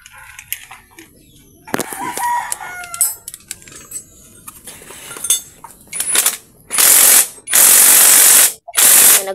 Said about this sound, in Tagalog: Tapos, ang nuts natin, ilagay natin. Tapos, siyempre, higpitan na natin.